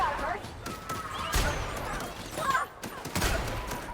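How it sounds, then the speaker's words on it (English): Enemy gunfire in The Outer Worlds, a few sharp shots scattered through a busy in-game scene, mixed with voices and other game sounds. "Why is she shooting at me?"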